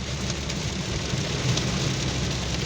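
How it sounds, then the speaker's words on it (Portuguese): Steady rain pours down on a road trip, a dense even hiss with a low rumble beneath, close and continuous for the whole stretch with no voices. "Chuva, chuva."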